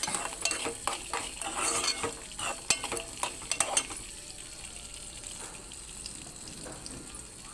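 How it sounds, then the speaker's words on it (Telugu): Chana dal and dried red chillies fried in a pan for dosa chutney, sizzling steadily as a spoon stirs and scrapes with busy clinks for the first few seconds, then settling into a quieter, even hiss. "ఇప్పుడు వేపుడు శనగపప్పు కూడా వేసుకుని ఇది కూడా బాగా వేగాలి"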